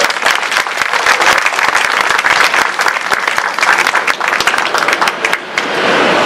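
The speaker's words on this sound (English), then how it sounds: "So please give Michael another big round of applause" Loud, sustained applause from an audience at the unveiling of a library's historical marker, dense clapping running steadily throughout with no break.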